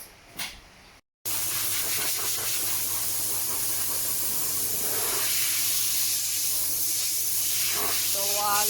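A loud, continuous blast of compressed air hisses close by for several seconds, blowing dust off a Suzuki Swift radiator, with a faint voice underneath and a low motor hum.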